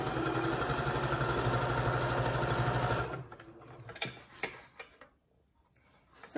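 A sewing machine stitches around an infinity scarf, whirring in a fast, steady rhythmic run for about three seconds before stopping, followed by quiet handling clicks and rustles of fabric.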